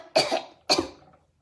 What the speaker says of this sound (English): I'm probably gonna have a coughing fit, so hold on for a sec.